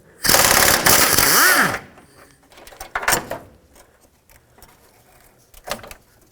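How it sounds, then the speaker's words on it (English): Ratchet fitted with a 10mm socket backing out a bolt while a Ford F-150 A/C condenser is removed, a loud burst of rapid clicking up front followed by quieter scattered clicks and clunks. "10mm socket, get the bolt out."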